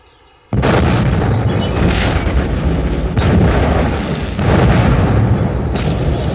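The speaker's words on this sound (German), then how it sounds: "In wenigen Sekunden wird der Feind durch unsere Artillerie mit einem verheerenden Trommelfeuer" Heavy artillery drumfire barrage, a continuous loud roar of overlapping shell blasts that rolls on in surging waves after a sudden onset, with no talk.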